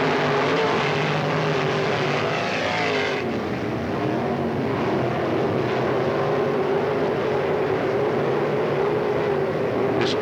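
Stock cars roar around Hickory Speedway in a 1995 race, a continuous loud engine drone with shifting pitch as cars pass, heard steadily throughout with no talk.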